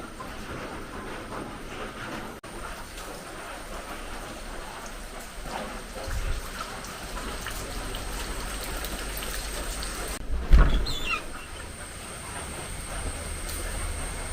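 Rain falls steadily at dawn, a constant soft hiss of drops. A brief thump and a rustle break in partway through.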